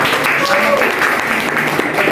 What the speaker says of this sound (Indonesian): kita berikan tepuk tangan dulu untuk Jabir.